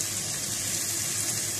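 Garlic and a medium onion fry in ghee with a dense, even sizzle, close and continuous for under two seconds, with no talking.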